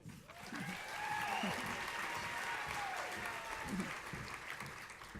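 Steady audience clapping fills a hall at a spring honors graduate recognition ceremony, held at an even level throughout, with a faint voice beneath.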